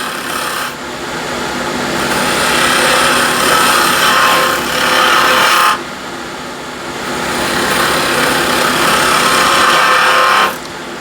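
Half-inch skew chisel cutting spinning wood on a lathe while turning an all-wood salt shaker, a steady loud rasping scrape in two long passes with brief pauses between.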